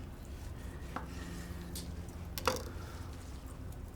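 A knife slices through a rested NY strip steak grilled over lump charcoal, giving a faint tick at one point and a sharper crunching cut midway, set against a steady low background hum.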